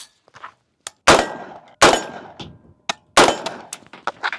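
An unsuppressed 300 Blackout short-barreled rifle fires about four loud, sharp shots at irregular intervals, each a sudden crack with a short decay, separated by near-silence and a few faint clanks.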